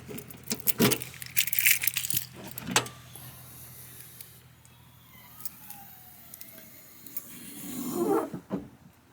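Someone opens the rear hatch of a Geo Metro with gas shocks. There is a jingle of keys, a latch clunk and a couple of sharp knocks, then a quieter stretch and a final rattle near the end. No one speaks.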